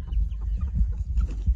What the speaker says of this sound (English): That's our rooster, Donald Duck.